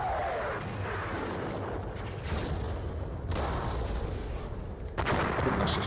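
Napoleonic-era artillery fire in the John Tiller Napoleonic Series war game, with several loud cannon booms spaced apart and a heavier report near the end over rumbling battlefield ambience.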